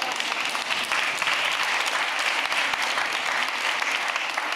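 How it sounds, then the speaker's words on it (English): Large audience at a democracy forum in Utrecht applauding, a dense continuous wash of many hands clapping, steady and fairly loud with no speech over it. "what I love about this place is the applause, the sound of the applause"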